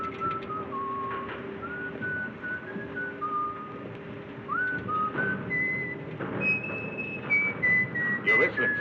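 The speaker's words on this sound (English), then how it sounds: "You're whistling, sailor." A sailor aboard a ship whistles a slow, wandering tune up close and clearly, with a low steady hum underneath.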